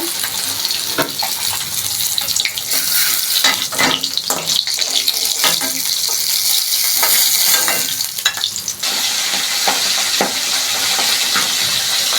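Fried aair fish crackle and sizzle in a pan of hot oil as they are lifted out, a loud, close frying hiss broken by repeated clinks and scrapes of a utensil against the pan.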